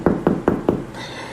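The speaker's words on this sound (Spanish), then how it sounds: "escuchó cómo tocan la puerta" Four sharp knocks on a door at an even pace, close and loud, followed by a faint lingering hiss in the early morning quiet.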